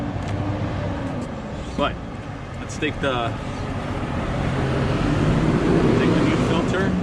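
Steady street traffic rumbles around a roadside oil change on a 2016 Dodge Ram 1500 EcoDiesel, with vehicles passing close and loud throughout while someone talks briefly over the noise.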